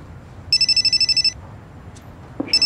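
Telephone ringing indoors, a loud close electronic trill of rapid pulses that stops, then starts again briefly after a short pause.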